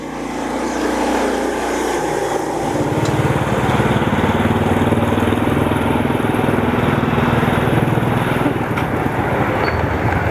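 An old, run-down motorcycle engine runs with a loud, steady, buzzy drone close by. Its pitch rises after the first couple of seconds and then holds constant.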